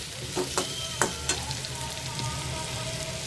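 Pumpkin frying in a pan for a vegetarian potato, pointed gourd and pumpkin curry. A soft steady sizzle runs underneath, broken by several sharp scrapes and clinks of a spatula stirring the pieces.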